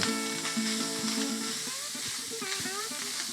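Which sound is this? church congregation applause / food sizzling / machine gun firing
food sizzling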